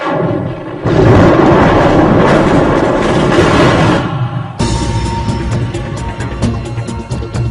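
Thunder from an electrical storm rolls in as a loud, broad rumbling crash lasting a few seconds, then gives way to a crackling, sputtering tail.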